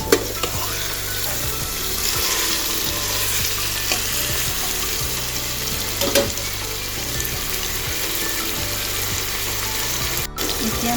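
Chicken being stirred as it fries in a pressure cooker with a spoonful of ginger paste. A steady, close sizzle runs throughout with repeated scraping strokes and a brief clatter near the end.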